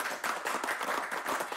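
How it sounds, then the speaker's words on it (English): A short burst of applause, steady clapping from a group of people at close range, filling the whole moment without talk. "Let's give it a round of applause one more time for Bunny and Amy"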